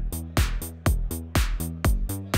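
A synth bassline through a Rodec MX Modular mixer pulses in a steady, driving rhythm, locked with punchy drum hits; loud and close, with no voices.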